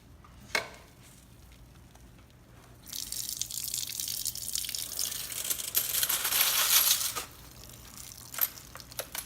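Clad nickels and dimes lifted out of a rock tumbler clink and jingle together, a faint click first, then a few seconds of wet, rattling metallic shuffling, close by and with no talk.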